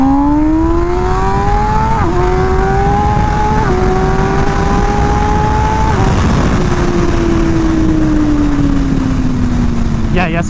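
MV Agusta Rush motorcycle ridden on the road during break-in, loud sustained engine drone with the pitch stepping up through gear shifts and then easing down, wind noise heavy throughout.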